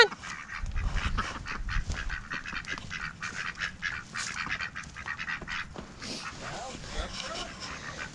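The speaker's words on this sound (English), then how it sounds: "Always got to start off with a little duck action this morning to get your day going right." Ducks on a farm in the morning, loud repeated quacks and honks in rapid bursts close by, with a voice talking among them.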